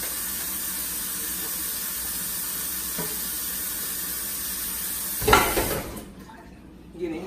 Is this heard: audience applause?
no